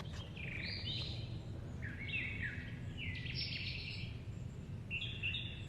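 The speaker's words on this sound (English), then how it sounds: "The birds are always really loud in the morning." Several birds sing loudly on a morning in Georgia, with repeated bright chirping phrases and warbles over steady low background rumble, no voices.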